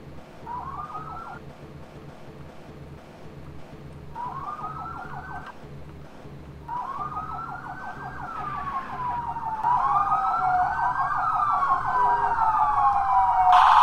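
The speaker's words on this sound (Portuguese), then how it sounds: "E a sirene aí, ó." Police sirens wail in a GTA MTA roleplay game during a presidential escort. Rising and falling tones repeat in several bursts and grow louder and denser toward the end, over a steady engine rumble with no talking.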